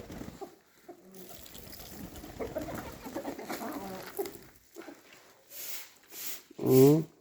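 Chickens cluck and pigeons coo close by, with a person talking over them for most of the stretch; a louder coo stands out near the end.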